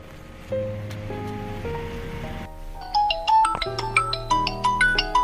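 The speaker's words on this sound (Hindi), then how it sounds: "तो आपके मोबाइल पर कॉल आएगा थोड़ा सा वेट करना है" A mobile phone rings with an incoming call, a melodic electronic ringtone whose tones start slow and low, then turn into a quicker, brighter chiming pattern, clear and alone.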